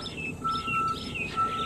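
Many birds chirp and tweet in a city park at early morning while plants are being watered, with steady overlapping high calls near and far and no voices.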